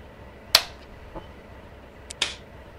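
Two crisp, close hand claps about a second and a half apart serve as sync markers for a recording. A faint tap comes between them over a quiet room background.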